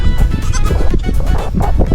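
A goat bleats in a camping valley, a loud, close, wavering cry repeating in quick pulses over about two seconds, with no talking.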